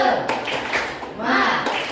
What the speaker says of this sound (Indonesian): Bapak contohkan, tepuk semangat.